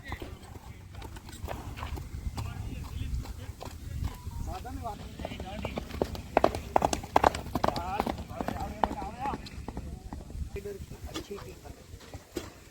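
Horses' hooves clip-clop on the ground at an endurance vet check at a Kutch farm, irregular steps passing close by under almost continuous talking from onlookers.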